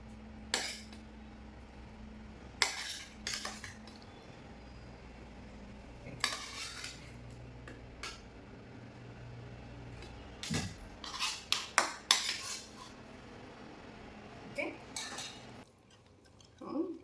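A spoon clinks and scrapes against a pot and plate while chicken curry is served, in scattered bursts of metallic knocks over a quiet kitchen background.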